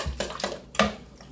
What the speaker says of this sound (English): Then I'm just going to whisk it all together.